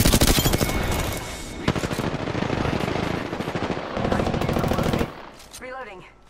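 Rapid automatic gunfire from enemies in a shooter video game, dense and loud bursts running for about five seconds before cutting off, with a brief voice at the end.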